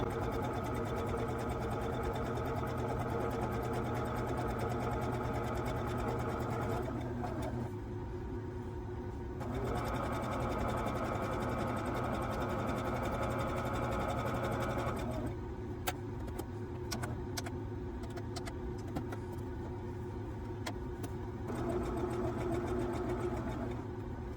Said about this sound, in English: So let's start stitching, preferably while my presser foot's down.